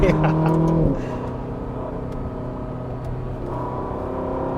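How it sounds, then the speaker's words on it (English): A Ferrari engine drops in pitch from a high rev through a downshift, heard from inside the car, then settles into a steady, lower cruising drone with road rumble underneath. "Those downshifts, eh? It's so fun to do them. It's Ferrari."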